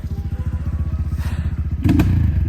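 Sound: motorcycle riding a difficult muddy trail

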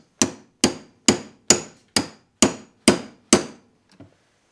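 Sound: hammer striking a punch to drive out a starter gear roll pin

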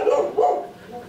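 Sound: rottweiler puppy barking

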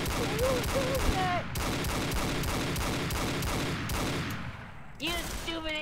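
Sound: gunshots from a gun

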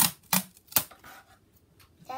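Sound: adhesive tape being pulled and applied to cardboard

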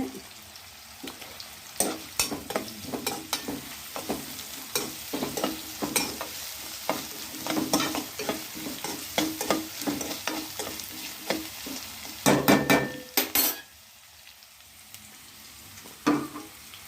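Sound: onion, ginger garlic paste being stirred and fried in pan

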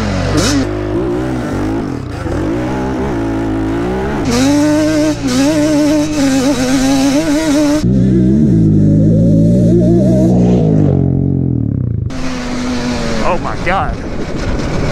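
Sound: Banshee 421 and Raptor 700 quad engines racing

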